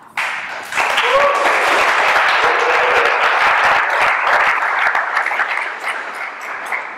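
Loud, dense audience applause at an academic awards ceremony, rising quickly after a short quiet start and holding steady before tapering slightly near the end, with a faint voice briefly audible under the clapping.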